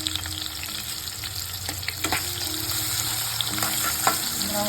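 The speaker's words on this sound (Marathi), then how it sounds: "त्याच्यानंतर आपण टाकणार आहोत कापलेला कांदा कापलेला कांदा आपण प्रॉपर तळून घ्यायचा आहे" Chopped onion fries in a pan with a steady, close sizzle and occasional scrapes and clinks of a stirring spoon, continuing without any voices.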